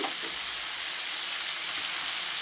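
Vegetables with ginger, green chili, turmeric, ground tomato and salt sizzling in a pan, a bright, dense, steady hiss of frying that fills the whole stretch, close and uninterrupted.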